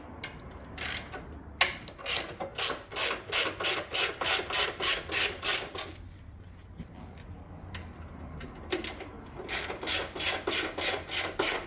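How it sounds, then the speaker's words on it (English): A ratchet wrench clicks rapidly in rhythmic bursts while unscrewing a metal tail light bracket on a Harley Sportster, two long runs of sharp close ticking separated by a quieter pause. "put a 1/2 inch in the back and unscrew it"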